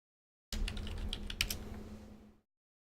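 Quick typing on a computer keyboard, a run of close, crisp key clicks with a few sharper taps, lasting about two seconds over a steady low hum.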